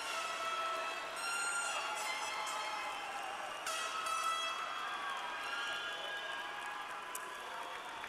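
A broad, steady roar of a large crowd cheering and shouting at a college commencement, sustained throughout with scattered higher whistles and cries.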